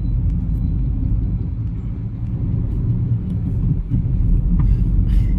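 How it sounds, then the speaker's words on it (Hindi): A Maruti Brezza car drives along the road, its engine and tyre rumble steady and close from the cabin, with a slight swell in road noise near the end and no talking. "इसको आगे और ड्राइव करते हैं"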